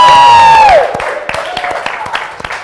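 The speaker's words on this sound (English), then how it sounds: "Give Aisling a big round of applause" A live audience breaks into scattered applause after a loud descending whistle, with individual claps and light cheering in the room.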